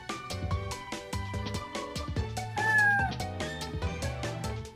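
A synthetic cat meow comes from an Alexa smart speaker, its pitch gliding over a steady backdrop of tonal, music-like notes.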